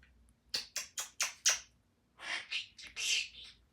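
A pet green-cheeked conure calls, first with a quick run of five sharp chirps, then after a short pause a few longer, rougher squawks, close and fairly loud against a quiet room.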